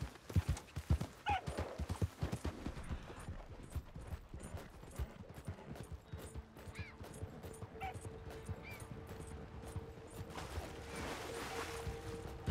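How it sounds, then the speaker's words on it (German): Horse hooves clip-clop steadily while riding in Red Dead Redemption 2 Online, a rhythmic trotting patter that starts loud and dense, then settles into a quieter continuous beat under game ambience with faint mechanical clicks. "Wir reiten hier mal ein bisschen rum"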